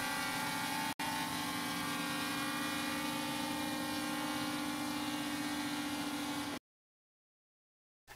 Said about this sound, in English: Press it down, and the drone descends.